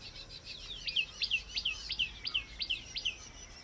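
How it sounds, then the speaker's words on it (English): Birds chirp in a natural morning setting in Nepal, a repeated series of bright, quick descending tweets at a steady rhythm, moderately close, over a soft ambient background with no talking. "Hearing the birds, This is my morning right here"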